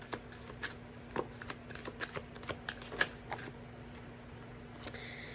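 Tarot cards are shuffled close by, quiet crisp riffling snaps and taps coming in a quick irregular series, then thinning out toward the end.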